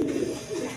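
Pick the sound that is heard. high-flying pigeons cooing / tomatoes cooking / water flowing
high-flying pigeons cooing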